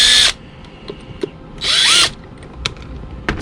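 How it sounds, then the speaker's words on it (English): A power drill bores into a high heel to seat screws flush, two short loud whirring bursts separated by quiet with faint clicks, no talking. "may have to drill down just a little bit to make sure that it sits nice and flush"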